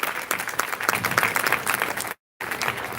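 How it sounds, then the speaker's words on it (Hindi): A crowd at a Shivratri celebration gathering claps steadily in a dense wash of applause, broken by a brief total dropout before it resumes at the same level. "सम्मानीय राज दीदी का स्वागत करें फिर से तालियों से।"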